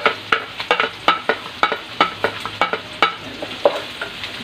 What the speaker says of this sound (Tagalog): Lagay na natin ang ating bawang sibuyas.